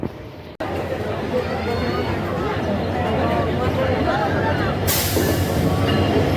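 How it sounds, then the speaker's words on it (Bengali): The Sonar Bangla Express rolls into Dhaka Airport railway station with a deep steady rumble and squealing wheels, a burst of brake hiss near the end, and crowd chatter around it. "আমাদের ট্রেন কিন্তু সঠিক সময়ে ঢাকা বিমানবন্দর রেল স্টেশনে এইমাত্র প্রবেশ করলো"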